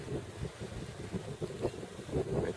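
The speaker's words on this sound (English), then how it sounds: "Pretty windy out here." Gusty wind blows outdoors during a heavy snowstorm, a steady low rumble with irregular buffeting surges, moderately loud and without speech.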